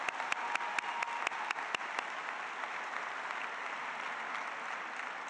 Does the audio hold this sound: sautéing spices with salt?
no